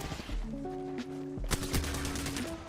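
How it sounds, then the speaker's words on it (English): Rapid gunfire in a video game, a quick volley of sharp cracks bunched together midway, heard over sustained tonal in-game music and low ambience at moderate level. "There's someone shooting in the back"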